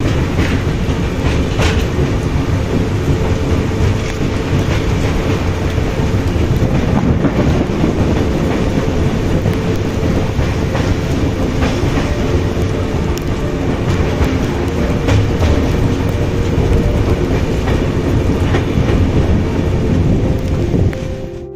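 Inside a third AC coach of the Pune–Santragachi Humsafar Express, a steady, loud rumble of the moving train fills the space, with faint rhythmic wheel clatter running throughout and no voices.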